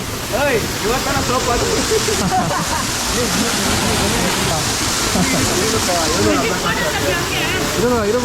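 Apsarakonda waterfall near Honnavar in Uttara Kannada pours down with force, making a loud, unbroken roar of crashing water close by. Indistinct voices are faintly mixed into the rush.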